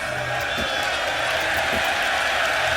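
Esports fans at a CS:GO tournament at ESL Challenger Melbourne keep up a steady, dense roar of crowd noise, cheering and whooping with faint clapping throughout, with a voice talking over the top.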